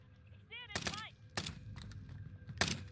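Gunfire in Call of Duty Warzone: a few loud, sharp single game shots spaced apart, mixed with other game sounds and a short warbling tone, with no speech.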